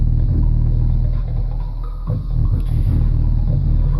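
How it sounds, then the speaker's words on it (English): Deep, loud bass note from a repaired Fisher 8-inch woofer, with a buzzing, rattling vibration from a desk layered over it, continuous throughout with a brief dip midway. "The desk is really rattling."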